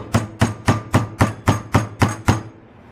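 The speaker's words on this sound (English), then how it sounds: "That's probably because I'm hammering directly onto the glove instead of inserting a" A steel gauntlet finger is hammered straight onto a glove, giving eight sharp, evenly spaced metallic blows close by at a quick steady rhythm. The clip ends on a brief fade.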